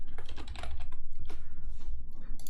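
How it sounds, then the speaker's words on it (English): Rapid, uneven keystrokes on a computer keyboard while entering code, close and clear, in short bursts with brief pauses and no talking. "Now when we type something,"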